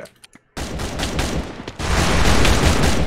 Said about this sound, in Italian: Sento i tuoi spari!